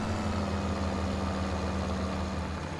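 A tractor engine in the video game Farming Simulator 17 idles and labours in a steady low drone, alone with no talk.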